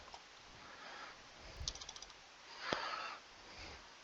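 Keys clatter on a computer keyboard in short, faint bursts of tapping, quiet and close in an otherwise still room.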